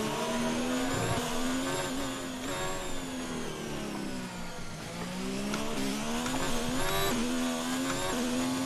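Engine of an F1 race car in the F1 2019 video game at Abu Dhabi, struggling for grip: a loud, steady, high-pitched engine whine that dips and climbs in pitch through a corner, with faint tire scrubbing and no talk.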